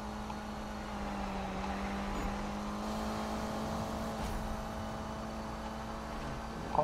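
A car in Need for Speed 2015 accelerates toward top speed, its engine holding a steady, sustained drone that climbs gradually over several seconds, moderately loud and alone.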